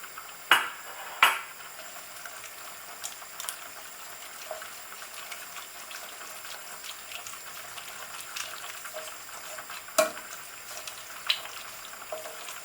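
Cream cheese and chard being stirred in a pan for a spaghetti sauce, giving a quiet, steady sizzle and simmer with a few sharp clinks of a utensil against the pan. Nobody speaks.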